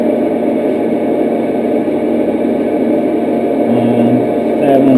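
A metal lathe takes a depth cut at 400 RPM with negative-geometry tooling, giving a loud, steady mechanical drone that holds throughout, with a brief tonal whine rising near the end.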